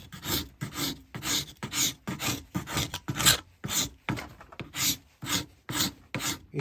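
A cabinet scraper pulled across wood in about fourteen even, repeated strokes, each a close rasping scrape that lifts shavings, with short gaps between them and no talk.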